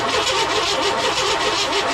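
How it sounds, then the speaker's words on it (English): An old car engine on a budget beater cranks over steadily without firing, a continuous close, loud churning drone with a faint rhythmic pulse from the starter turning the motor. "Just keep cranking until I tell"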